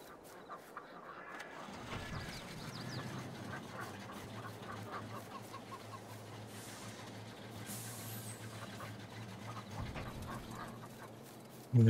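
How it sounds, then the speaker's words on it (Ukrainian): Chickens clucking in the Farming Simulator 22 video game on a village farm, soft steady game-world poultry noise with a low hum running underneath for most of the stretch. "Так, кури."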